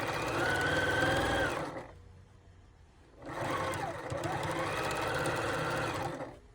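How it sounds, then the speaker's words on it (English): A sewing machine stitches a quilted Christmas stocking from the inside, running in a loud steady whir for about two seconds, pausing briefly, then stitching again for roughly three seconds, close up. "I'll sew from the inside of the stocking."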